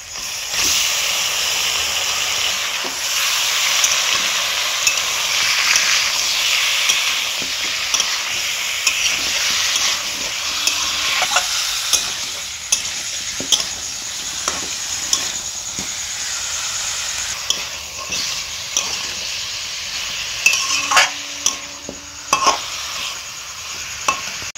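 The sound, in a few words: chicken frying and being stirred in a pan for chicken stew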